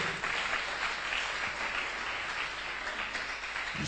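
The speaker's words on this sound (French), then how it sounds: "Applaudissez Jésus" Church congregation applauding during a French-language service, a dense steady wash of clapping filling the room for the whole stretch, moderately loud with no break.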